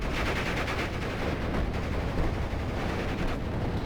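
Machine gun fire in the WWII strategy game Steel Division: Normandy 44, from German MG 34s engaging Polish infantry in Normandy. A dense, continuous rattle of automatic bursts and distant booms forms a steady battlefield din.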